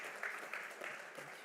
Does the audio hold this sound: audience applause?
yes